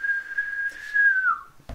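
A person whistles a single sustained, wavering note for over a second that then slides downward and fades, close and clear, ending with a brief thump.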